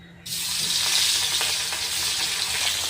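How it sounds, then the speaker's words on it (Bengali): Pieces of rui fish drop into a pan of hot oil and burst into a loud, steady sizzle that holds without break after a brief quiet start. "এখন আমি বাদবাকি মাছগুলো ভেজে নেব।"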